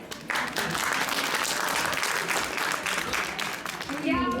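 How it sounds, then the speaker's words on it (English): Loud, dense audience applause fills a college cultural programme hall, a sustained roar of many clapping hands running throughout, with a brief voice or music rising at the very end. "तालियां बजती रहनी चाहिए गाइस।"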